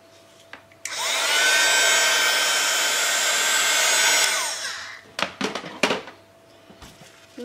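A hair dryer blows loudly and steadily for about three seconds to dry a faux rusted-metal paint finish, then shuts off, followed by several sharp handling knocks and clatters.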